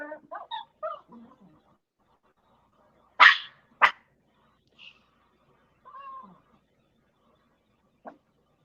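A dog in a home doorway barks twice in short sharp bursts, followed later by a faint whine and a small yip, with quiet voices before and between.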